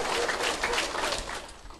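Audience applause fills a marketing seminar hall: dense, steady clapping from many people, close and loud, holding evenly throughout with no voices over it.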